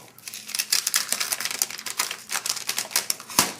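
Sharp blade slicing through the paper wrapping of a mail package, a rapid series of crisp tearing and crinkling strokes, close and fairly loud, with no talk over them.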